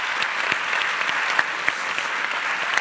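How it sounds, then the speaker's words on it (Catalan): Theatre audience applause at the Teatre Principal de Terrassa, an even, steady stream of clapping with a few sharper individual claps standing out. "Molt bé, Enzo, un aplaudiment"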